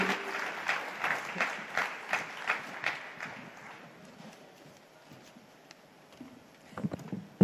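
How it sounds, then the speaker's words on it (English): At an India business leaders' awards ceremony, the audience claps for Gautam Gambhir, a faint, distant run of rhythmic, evenly spaced claps that thins out and fades, followed by a few scattered sounds. "a big round of applause for Gautam Gambhir"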